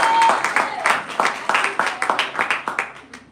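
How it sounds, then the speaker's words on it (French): A church congregation breaks into applause during a sermon, with quick rhythmic clapping that rises and then settles into a steady, slightly slowing beat, close and lively over a brief voice at the start. "On peut applaudir le Seigneur."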